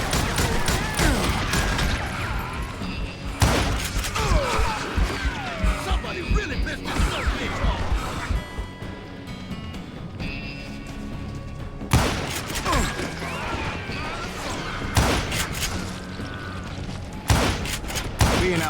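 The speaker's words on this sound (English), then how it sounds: "Who's shooting at us? We're under fire!" Gunfire in the Western video game Call of Juarez, with repeated loud shots and crashing bursts in clusters across the stretch, close and dense, mixed with game sounds and some speech.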